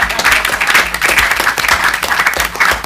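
Crowd at a Conservative event applauding a young councillor, loud dense clapping holding steady throughout, close and sustained with no break.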